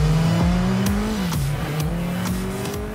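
A sports bike engine revs hard under acceleration, its pitch rising and shifting through gear changes, loud and close throughout.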